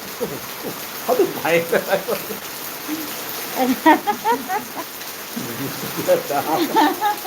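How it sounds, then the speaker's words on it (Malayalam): Heavy rain pours during a downpour, a steady hiss of water under voices that talk through most of the stretch. "മഴ എന്ന് വെച്ചാൽ അന്യായ മഴയാണ് നല്ല സൂപ്പർ മഴ"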